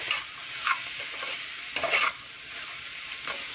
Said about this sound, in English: And I'm going to add the coconut as well. Let it fry, let it fry for 2 minutes.